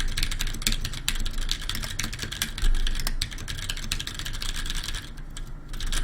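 Rapid, continuous clacking of keys on a mechanical keyboard, fast and dense, close up with no voices.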